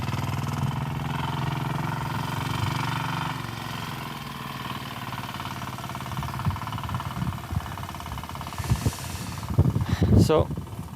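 A motorcycle rides by on a road in Vagamon, Kerala, its engine hum rising then fading, heard mid-range beneath people chatting nearby.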